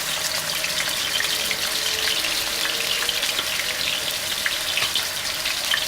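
Ground onion paste frying in hot oil for a chicken white qorma, giving a steady, close, bright sizzle and crackle that holds evenly throughout with no talking.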